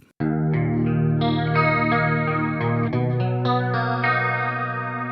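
Clean electric guitar arpeggios shimmer with a lush chorus effect, notes ringing and overlapping in a steady, flowing pattern, loud and close.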